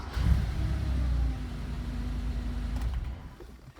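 A 1980 Porsche 911SC Weissach Coupe's flat-six engine with 98,000 miles on the rebuild catching and rumbling at low revs, a steady near growl that settles and fades slightly at the end.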